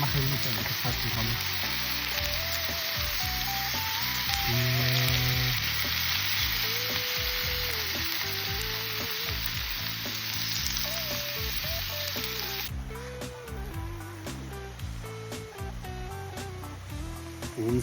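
Meat sizzles as it fries in a pan outdoors at Khyalganat, a continuous bright crackle running under prominent background music throughout.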